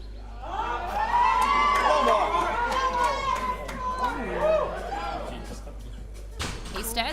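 Crowd at a powerlifting championship in Auckland cheers and chatters loudly for a lifter after a successful lift, with voices swelling together and then easing off, and a sharp knock near the end.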